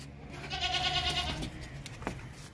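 A goat bleats in a livestock setting where goats and young male goats are being shown for Qurbani sale, with one long, clear, wavering bleat up close and fainter background noise.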